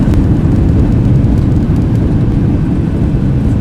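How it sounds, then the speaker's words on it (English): Boeing 737 reverse thrust roars on landing in the X-Plane 12 flight simulator, a loud, steady, low rumbling blast that holds throughout without a break. "Bring the reverse thrusters out."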